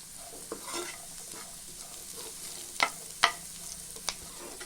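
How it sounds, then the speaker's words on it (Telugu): Sweet corn kernels frying in a pan as they are stirred, a soft steady sizzle broken by several sharp scraping clacks of the spoon against the pan, with no talking. "చూడండి, స్వీట్ కార్న్ బాగా వేగినాయి,"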